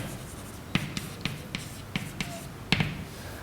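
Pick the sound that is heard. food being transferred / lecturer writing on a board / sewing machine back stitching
lecturer writing on a board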